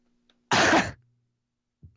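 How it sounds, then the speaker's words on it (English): One loud sneeze bursts out close to the microphone and lasts about half a second. Near-silence surrounds it, with a faint click before and a small noise after. "That was the loudest sneeze ever."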